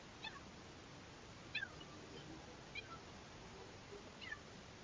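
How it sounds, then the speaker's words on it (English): A cat meows several times outdoors, short faint calls spaced about a second apart over a steady background hiss. "The cat's being vocal."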